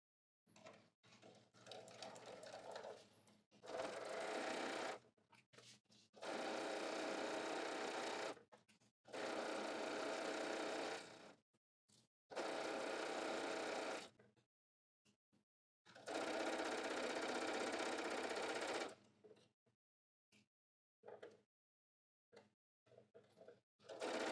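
A sewing machine back stitching while constructing an apron runs in about six separate bursts of rapid, close whirring, each lasting a few seconds, with short quiet pauses and faint handling sounds between them.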